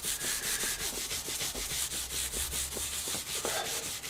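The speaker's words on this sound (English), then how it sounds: "Gets all the crap off the fretboard too. Bit of Scotch-Brite, I use that too." A Scotch-Brite pad scrubs back and forth over a guitar fretboard fitted with stainless steel frets, a loud, close, continuous abrasive rubbing with a quick, even stroke rhythm and no voices.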